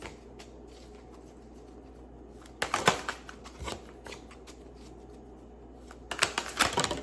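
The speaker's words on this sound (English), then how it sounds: "Oh, and then all my cards fall" A deck of tarot cards slips during shuffling and spills, with two quick bursts of flapping, slapping card noise over a quiet room and faint riffling in between.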